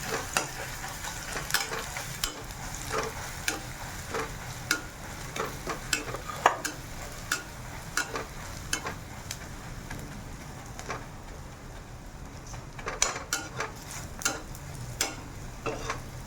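Radish paratha filling being stirred and sautéed in a pan, a steady soft sizzle with irregular scraping clicks of the spatula against the pan throughout.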